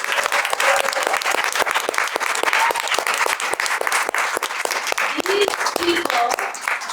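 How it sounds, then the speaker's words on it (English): A book-launch audience gives loud, sustained applause for the volunteers, with dense clapping throughout and faint voices mixed in among the crowd. "Volunteers, please give a round of applause."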